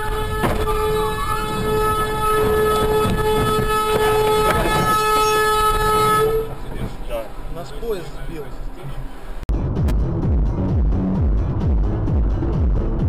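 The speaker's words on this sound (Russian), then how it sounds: "Нас поезд сбил." Loud train horn blasting over roadside traffic for about six seconds, followed by crashing and scraping as a train strikes a car, with shouting voices after impact.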